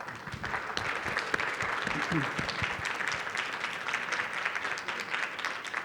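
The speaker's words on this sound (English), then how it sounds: "let me propose we give them a big round of applause." An audience at the closing of the 2022 GBA-GFA HKGFA annual meetings gives a round of applause, sustained dense clapping filling the room for several seconds, with faint voices underneath.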